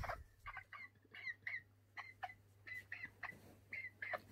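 A chicken clucks in short, repeated bursts, close and fairly quiet, with a steady low hum beneath and no talking.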